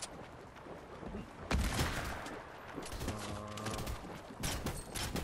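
Gunfire in the tactical shooter Squad: a dense spread of overlapping shots and distant bursts, with a louder burst near the middle and a steady rolling clatter behind it.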